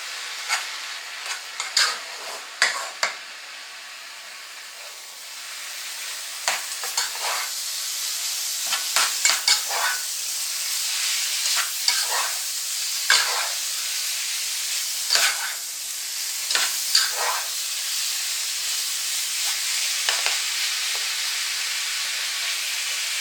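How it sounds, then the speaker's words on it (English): Curry is stirred and mixed in a frying pan over a constant hiss of sizzling, with irregular scraping and clacking strokes scattered throughout and no talking. "More curry. Gonna mix this all up."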